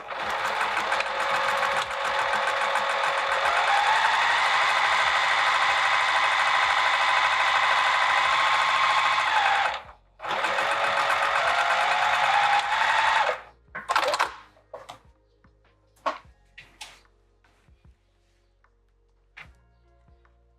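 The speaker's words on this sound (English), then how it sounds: "I'm going to sew the other side all the way across." A sewing machine stitches across a vinyl handbag in long, steady runs for about ten seconds, pauses briefly, runs again, then stops, leaving a few scattered handling knocks and clicks. No one speaks.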